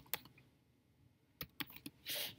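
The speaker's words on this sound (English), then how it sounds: "I'm just going to type in centered right now." Text typed on a computer keyboard: a handful of close, distinct key clicks in an uneven rhythm, followed by a brief louder clatter, with no voice over it.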